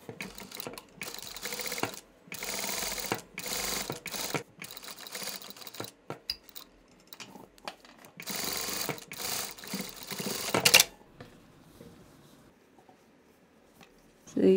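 A sewing machine runs in bursts of rapid mechanical whirring while it top stitches close along the edge of the fabric, with short pauses between runs and a quieter stretch near the end.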